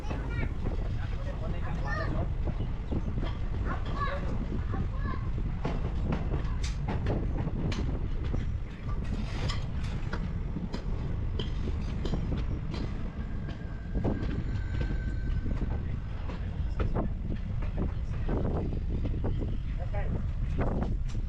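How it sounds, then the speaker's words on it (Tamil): A passenger train rolls on after leaving Londa Junction, a steady rumble of wheels and carriage noise with wind buffeting the microphone throughout and a faint squeal partway along. "ட்ரெயின் பார்த்தீங்க அப்படின்னா லோண்டா ஜங்ஷனில் இருந்து கிளம்பிருச்சு."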